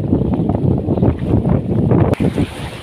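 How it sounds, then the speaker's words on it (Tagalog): Strong wind buffets the microphone on an island shore by the sea, a loud, rough, low roar that gusts continuously for a few seconds with no voices. "Ayan, lakas ng hangin."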